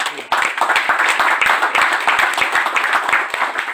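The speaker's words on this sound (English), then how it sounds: "Let's give him a round of applause" Applause from a small audience at a county event honoring a state senator, close, distinct individual hand claps forming a brisk, uneven patter rather than a dense roar.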